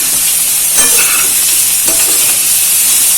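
Onions and soya chunks frying in a pan on a low-medium flame, with a steady close sizzle and a couple of stirring scrapes, no talking.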